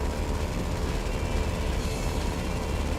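Heavy continuous roar of the B-11 Strikeforce jet's cannon firing in GTA Online, a dense unbroken blast of rapid fire held loud and steady from start to end with no talking.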